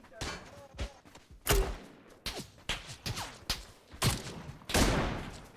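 Gunshots ring out in the battle-royale game PUBG, a string of sharp separate cracks and booms spread over several seconds at varying distances, some loud and close, with people talking over the firing.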